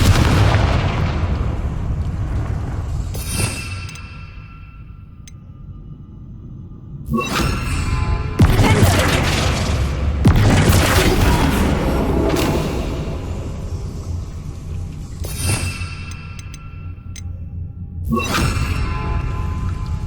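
Confringo blasting spells explode again and again in the Hogwarts Legacy video game, with loud booming blasts and whooshes arriving in separate bursts and a constant rumbling background underneath.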